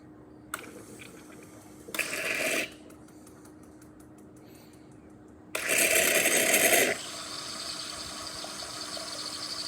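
A Saeco coffee machine runs milk cleaner through its carafe, a quiet pump hum broken by two louder bursts of hissing, gurgling flow into a cup, the second longer, then a steady whir.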